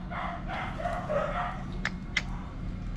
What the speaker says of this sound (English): What are them dogs barking for?